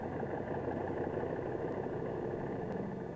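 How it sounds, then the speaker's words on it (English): Bomber and aircraft engines warming up before dawn on an airfield flanked by mountains, a steady low droning rumble that holds evenly without a break. "The sound of the engines warming up starts before dawn, echoing back from the mountains that flank the field."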